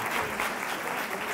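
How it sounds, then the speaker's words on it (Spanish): An audience of teachers at a talk gives a short burst of applause for the preschool teachers, even and sustained with no voices over it. "Un aplauso para vosotras."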